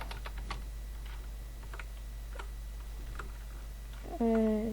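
Keys clacking on a computer keyboard in short irregular bursts, close and fairly faint over a steady low hum, with a brief tonal beep near the end.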